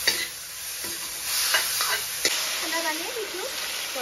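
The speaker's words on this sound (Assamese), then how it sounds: "পিঁয়াজ নহৰু জলকীয়া অকণমান তেলত ভাজি ল'লোঁ" Onion, garlic and chilli fry in a little oil and are stirred, giving a close sizzle with repeated spatula scrapes and clicks, and a faint voice briefly underneath.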